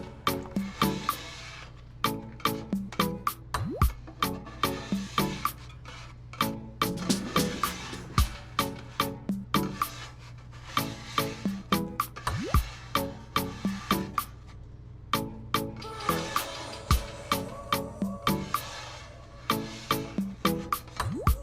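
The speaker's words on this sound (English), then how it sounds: "we got a little scraper here, and we're just gonna shove it all into the back there" A metal scraper drags repeatedly across a wet Blackstone camping griddle, pushing water and residue toward the back in a steady series of sharp, close scraping strokes with no talking.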